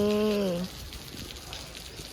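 Heavy rain falls steadily outdoors as an even, continuous hiss of drops, opened by a brief tonal hum before the patter carries on alone.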